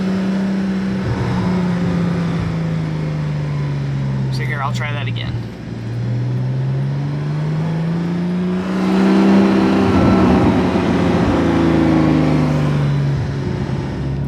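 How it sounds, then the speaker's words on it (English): A Porsche 981 S with an Agency Power catback exhaust drones and rises and falls through slow first-gear driving, burbling as the throttle lifts, with someone talking over the engine. "you let off the gas, you're going to get a nice burble."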